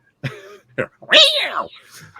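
A comedian at a stand-up comedy festival imitates a cat screech with his voice, a few short nasal bursts followed by a longer, rising and falling wailing screech, close and fairly loud with no other sound.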